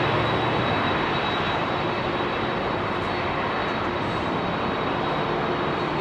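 Jet aircraft departing Heathrow runway 27R, heard up close as a loud, steady roar of engine noise that fills the whole stretch with no letup.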